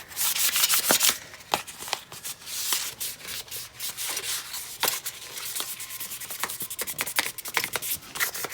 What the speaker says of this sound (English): Now what's next after you're done sanding?